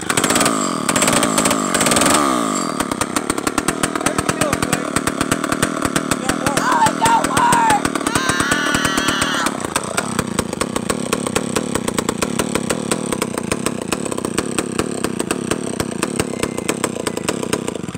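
Chainsaw engine revving loud and close, a hard buzzing roar that steadies into a continuous high-revving drone, with voices talking over it near the start.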